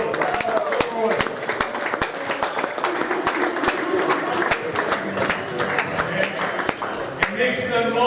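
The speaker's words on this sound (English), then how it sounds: "Let's give a round of applause." A crowd claps at an All-Stars basketball game as players are introduced: sharp, scattered claps over a crowd murmur, with a announcer's voice carrying over the applause.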